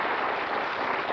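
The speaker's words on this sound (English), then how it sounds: "Big round of applause to do a wonderful job there." Studio audience applause on a 1989 TV game show, a dense, steady wash of clapping that holds at an even level throughout.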